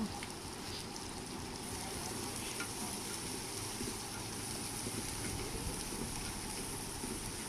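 Chopped chili and onion frying in a pan and being stirred, a steady dense sizzle running continuously at moderate level with no talk.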